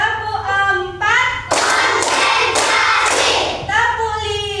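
A class of children clap in unison during a counting clap game, several loud claps in a row with chanting voices before and after.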